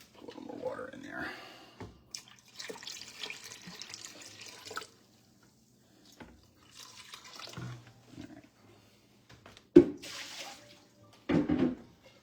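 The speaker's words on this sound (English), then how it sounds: "Put a little more water in there." Water poured from a tap into a brine pot, intermittent splashing and running bursts separated by quiet gaps, fairly faint and close, with a louder gush near the end.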